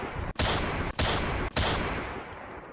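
A pistol firing in a Roblox game, three loud, rapid shots in quick succession, each with a broad, noisy burst that trails off after the last one.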